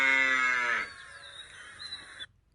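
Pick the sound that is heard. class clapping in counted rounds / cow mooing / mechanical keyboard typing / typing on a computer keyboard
cow mooing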